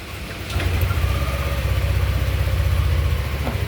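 A Yamaha Aerox scooter engine, in for a fault-code repair, cranks and fires up, then settles into a steady, close, continuous idle with a low throbbing rumble that carries on to the end.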